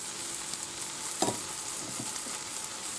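Fried potatoes for a Spanish tortilla sit in hot oil as they are drained, giving a steady sizzle with a brief clatter of stirring near the middle; no speech.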